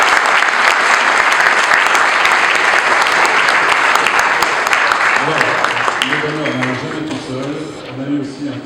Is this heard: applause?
yes